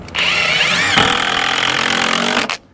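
A power drill drives a screw straight into wood without a pilot hole during pole barn construction: a loud, close motor whine that rises in pitch, holds steady for about two seconds, then cuts off.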